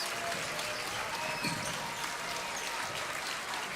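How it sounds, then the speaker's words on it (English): Basketball fans of the Bulldogs applaud in a school gym in the closing minutes of a tournament game: a steady, dense wash of clapping and crowd noise that fills the space without a break. "these Bulldog fans have erupted into an applause"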